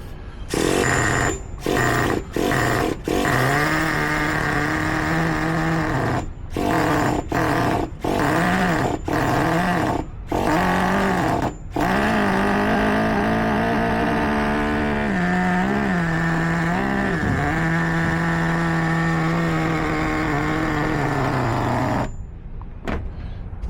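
A Traxxas T-Maxx 3.3 nitro RC truck engine idles steadily and loud, a continuous buzzing drone with several sharp cuts and restarts in the first half, then wavering revs before dropping off near the end; no talking.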